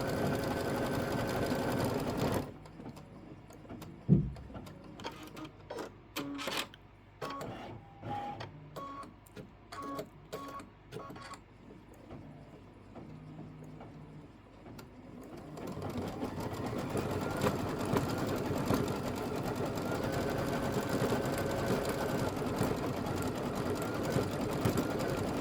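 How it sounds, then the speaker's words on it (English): An embroidery machine stitches the eyes, whiskers and mouth of a Kimberbell bunny. A brief whirring run stops, then come scattered quiet clicks and taps before a long, steady stitching buzz resumes. "Step 9, we're going to stitch the eyes, whiskers, and mouth detail."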